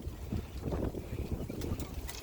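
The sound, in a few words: wind blowing outdoors into the microphone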